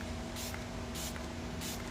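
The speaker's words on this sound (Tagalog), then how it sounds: "Kailangan ko to laging i-spray." A favourite spray product released from a can or bottle in three short hissing bursts, evenly spaced over a steady background hum.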